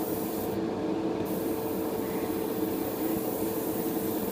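An airbrush sprays a gloss coat of Pledge Revive It floor finish onto a piece, giving a continuous close hiss of air and mist that holds steady throughout.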